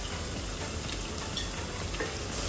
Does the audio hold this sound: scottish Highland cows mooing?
no